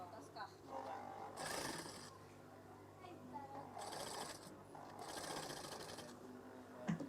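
Sewing machine stitching through very thick curtain fabric, running in several bursts of a few seconds each with pauses between, close and moderately loud over a steady low hum.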